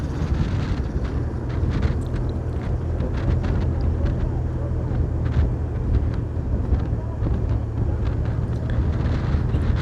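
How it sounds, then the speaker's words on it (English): Strong wind outdoors at a cycling race in the tropics, a steady loud roar and buffeting against the microphone throughout, with a commentator talking over it. "very, very windy condition out here."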